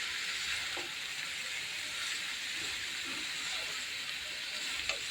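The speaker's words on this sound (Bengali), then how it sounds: "একটা শাক ভাজি করবো, সেটা ডাল দিচ্ছি। আমি ওদের নাড়া দিয়ে নিই।" Greens and dal fry in a pan over a steady, loud sizzle and hiss while being stirred, with faint scraping now and then in a Bengali home kitchen, no speech.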